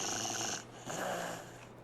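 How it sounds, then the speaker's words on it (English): Beavers snore in the video game Timberborn, a few rough, rasping breaths rising and falling in quick succession, close up and moderately loud, with no talking. "Well, they snore loud."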